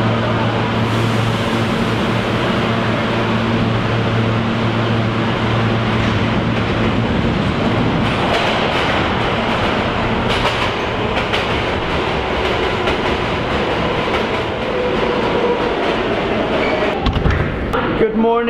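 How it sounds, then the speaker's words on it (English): A New York City subway train rumbles and clatters into a station, a steady loud roar with rising screeches near the end, voices murmuring underneath. "The subway is gonna arrive right here"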